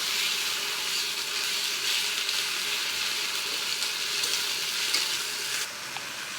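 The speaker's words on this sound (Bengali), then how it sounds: "এবার এখানে আদা বাটা, রসুন বাটা, জিরা বাটা দিয়ে দেবো, দিয়ে এটা আর একটু ভেজে নেব" Onion frying in a pan with ginger, garlic and cumin paste added, a steady close sizzle that carries on throughout and eases slightly near the end.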